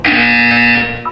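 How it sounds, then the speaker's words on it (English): A loud, harsh electronic buzzer from the Portal 2 video game sounds as one steady tone for about a second, followed by a short clipped blip. "You will hear a buzzer."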